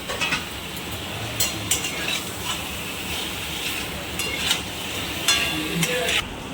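Soaked potatoes hitting hot spiced oil in a pan, giving a steady close sizzle with occasional stirring scrapes and utensil clinks against the pot.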